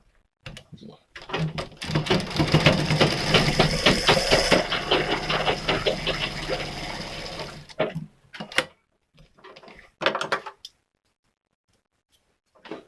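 Sewing machine runs in a steady rapid burst while stitching a katori cut blouse, then stops and gives a few short restarts. It is close and loud.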